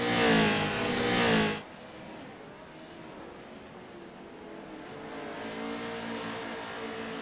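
Race truck engines in a JAT Pro 2L Series race rev loudly up close for about a second and a half, then drop to a steady, more distant drone of engines running on track.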